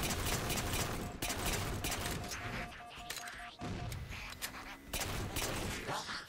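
Rapid bursts of gunfire and crashing explosions fill a Halo 4 video game battle, loud and dense, with a voice talking over the shooting.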